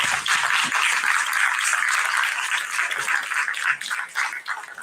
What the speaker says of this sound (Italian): Fatele un applauso.